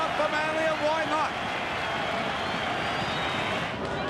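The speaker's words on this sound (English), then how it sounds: "this crowd revved up for Manly, and why not?" A rugby league crowd roars for Manly during a 1988 match against Great Britain, a dense, steady wall of cheering with a commentator's voice talking over it.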